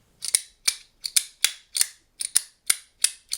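Sharp, crisp clicks from a magnetic haptic coin fidget toy repeating about a dozen times in quick, slightly uneven rhythm, close and fairly loud, with silence between each snap.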